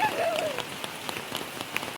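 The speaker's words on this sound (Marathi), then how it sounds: "बहुत पाउस पड़ रहा है" Heavy rain pours down in Konkan during the monsoon, a steady wash of pattering drops on surfaces with scattered louder splashes; a brief voice is heard at the start.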